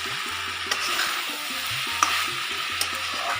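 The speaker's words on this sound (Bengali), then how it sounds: "টমেটো পেস্ট দিলাম, দিয়ে একটু নেড়ে নিই।" Tomato paste is stirred in a frying pan over a soft steady sizzle. A utensil makes occasional light scrapes and taps against the pan, close and with no voices.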